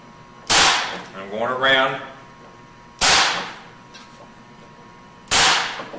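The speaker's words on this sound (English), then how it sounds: "So I'm just taking the staple gun." A staple gun fires three sharp, loud snaps spaced a couple of seconds apart, stapling material in place on a cannon build, with a brief voice speaking between the first two shots.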